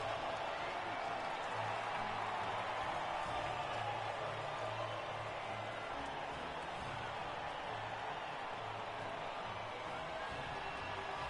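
A crowd cheering at the podium after the Brazilian Grand Prix in F1 2020, a distant, steady wash of cheers and applause with faint whoops, low in level throughout.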